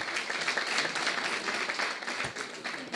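An audience at a New Year celebration concert with a flute performance breaks into steady, dense applause, a continuous wash of clapping heard from within the crowd.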